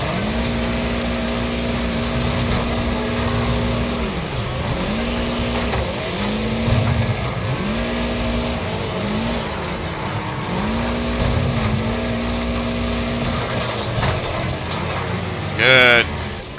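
Engines roar in a Wreckfest demolition derby, rising and falling in repeated revving cycles with a sharp crash-like burst near the end; loud and close throughout.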